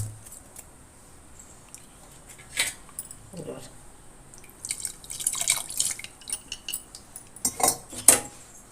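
Brinjal curry being stirred in a pot, with scattered clinks and scrapes of a utensil against the vessel that grow busier toward the end, while a voice talks over them.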